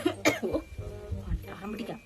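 A person coughs several times in a short, rough burst, with voices and household talk mixed in around the coughs.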